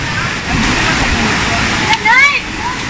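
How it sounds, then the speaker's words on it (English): Alegria Falls in Pagadian City roars as a steady, broad wash of falling water, loud and continuous, with a brief exclaiming voice cutting in near the end. "Finally, we reached Alegria Falls."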